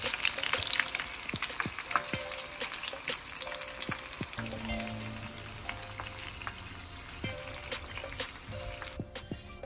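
Coconut shrimp deep frying in hot oil, a dense, even crackling sizzle heard close and alone for several seconds, with a few sharper pops scattered through.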